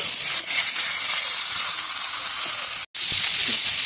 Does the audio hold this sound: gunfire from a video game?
no